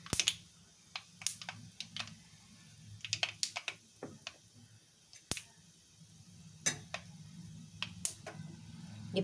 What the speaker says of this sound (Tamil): இந்த கடுகு பொரியுது